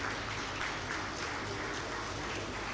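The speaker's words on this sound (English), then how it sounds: "Can we keep clapping for her till she gets here?" Audience clapping at an agricultural summit panel session, a steady continuous patter of many hands held at moderate, even loudness throughout with no voices over it.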